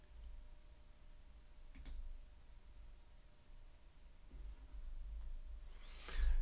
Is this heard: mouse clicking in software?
yes